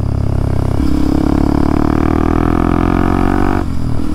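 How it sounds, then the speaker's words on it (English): Kawasaki KLX 230SM supermoto motorcycle riding on a test drive while warming up, its single-cylinder engine droning loud and close, with the pitch climbing under throttle and then dropping off near the end. "I'm doing a test drive first, getting this bike up to temperature"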